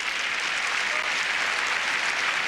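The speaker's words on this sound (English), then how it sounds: "But the crowd just applauding just because Agassi is just getting it done" Steady, dense applause from the tennis crowd at Roland Garros during the 2002 French Open, a sustained wash of clapping with no break.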